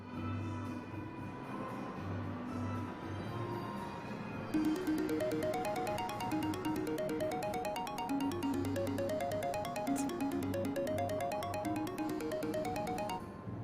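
A mobile phone ringtone plays a repeating electronic melody, quiet at first and then clearer from mid-clip, looping in even bursts over a low background hum, with no voices.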